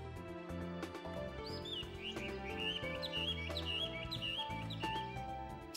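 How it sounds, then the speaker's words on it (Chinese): Small birds chirp in the morning beside gentle early waves, a run of short bright tweets repeating over a steady background music bed, fairly faint and continuous with no talking. "小鸟醒了。"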